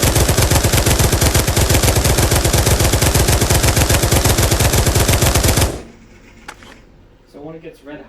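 An LMG fires in the Pavlov VR shooter as one long, rapid, loud automatic burst lasting several seconds, then cuts off abruptly and is followed by faint clicks and handling sounds.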